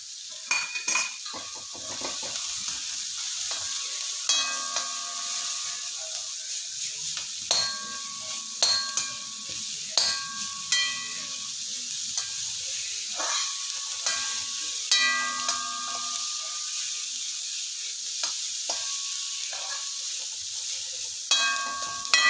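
Ginger sautéing in a pan on a gas stove: a steady bright sizzle runs throughout, with repeated metallic clinks and scrapes of a spoon against the pan, no talking.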